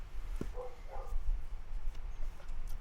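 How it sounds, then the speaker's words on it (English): Daphne the dog barks once indoors and then lets out a few soft, high whimpers, fairly quiet over a low household rumble. "let me know if you hear a dog barking"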